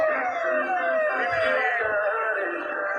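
An ambulance siren wails past, its pitch sweeping downward in long, repeated glides. It stays loud and close the whole time, with faint low rumbles underneath and no talk over it.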